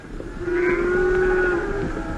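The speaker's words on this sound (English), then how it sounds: "Here come some men driving cattle and sheep." Cattle and sheep driven along a roadway by men: a long, loud, sustained lowing moo from one animal close by, steady for about two seconds, with no talk.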